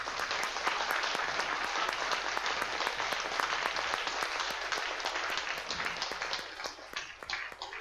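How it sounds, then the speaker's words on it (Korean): A church congregation applauds after a choir performance, a dense sustained round of clapping that carries on steadily before thinning slightly near the end. "우리 자리에 앉으시면 다시 한번 감사 표시로 우리 박수를 다시 한번"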